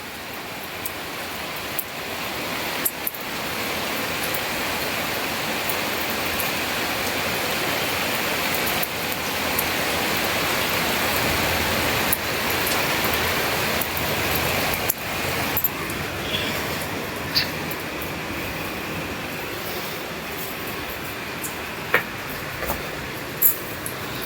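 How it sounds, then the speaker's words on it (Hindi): Heavy early-morning rain pours down before daybreak in a loud, unbroken roar that lasts throughout, with occasional sharp ticks and drips breaking through the steady downpour. "बहुत तेज की बारिश हो रही है, और आवाज सुनने चेक करे कितनी जोर की है।"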